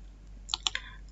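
Keystrokes on a computer keyboard while a number is typed in: three quick, light clicks close together, faint and alone against a quiet background.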